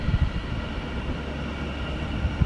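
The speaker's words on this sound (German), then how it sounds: "Kommt noch da der Zug." A train passes near the site of a Roman theatre in Mainz, heard as a steady low rumble and broad rolling noise that holds evenly throughout, with no voices.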